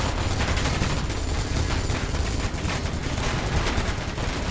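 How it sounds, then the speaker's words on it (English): Automatic gun turrets fire nonstop in the Space Engineers video game, a dense, loud, rapid rattle of gunfire with no pauses, alone without speech. "our automatic guns are doing great"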